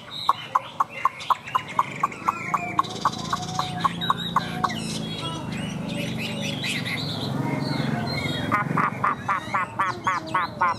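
Hwamei songbird singing close by, with rapid repeated chirping phrases and varied warbling notes, loud and continuous.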